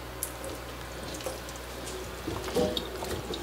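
Tap water running into a sink over cucumbers being washed for dill pickles, a faint steady splash with occasional small knocks and bumps, no talking.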